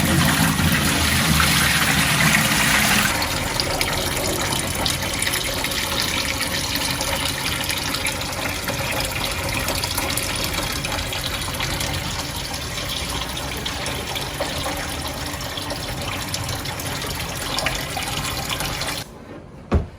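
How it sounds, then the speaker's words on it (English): Water streams steadily out of kwanga cassava dough as it is wrung in a tea towel, a continuous close splashing and trickling that runs for most of the stretch before stopping abruptly at the end. "take out the dough just a little bit. I mean the water."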